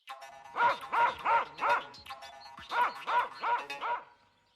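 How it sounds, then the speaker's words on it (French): A dog barks in two quick bursts of four loud, close, rhythmic woofs separated by a short pause, with nothing else heard alongside. "Des chiens voudront te dévorer."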